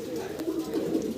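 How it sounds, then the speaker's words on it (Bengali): A jet-black pigeon coos softly and continuously at close range, a low rolling murmur lasting about a second with no voices. "আর কবুতরটা হচ্ছে ফুল জেড ব্ল্যাক ভাই"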